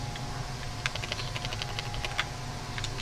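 Keys on a computer keyboard clatter in quick irregular bursts of light clicks, heard fairly faint over a steady background hum.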